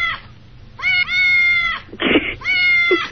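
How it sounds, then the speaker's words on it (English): A cat meows loudly and close in a few drawn-out, tonal cries, with a short breathy burst between them. "we have a cat in here"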